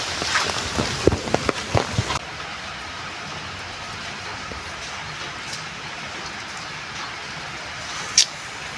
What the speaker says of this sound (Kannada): ಸಿಕ್ಕಾಪಟ್ಟೆ ಮಳೆ ಬರ್ತದೆ